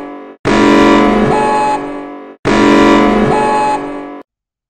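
Emergency alert system alarm tone: two long, loud, buzzing harmonic blasts of about two seconds each, separated by a brief gap and heard on their own.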